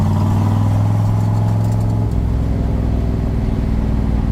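A 1966 Chevrolet Corvette engine drones loudly and steadily from inside the car while driving, its note dropping and settling about halfway through, with no talking.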